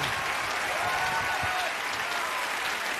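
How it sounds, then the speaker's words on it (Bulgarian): Strong, dense audience applause at a Bulgarian television show, loud and continuous throughout. "Силни аплодисменти!"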